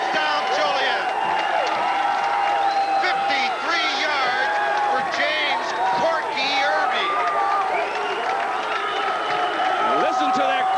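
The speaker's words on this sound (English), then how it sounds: "Listen to that crowd." A roaring crowd cheers at a high school football game after a 53-yard touchdown run, a dense, steady wall of distant voices and whoops beneath a commentator talking over it.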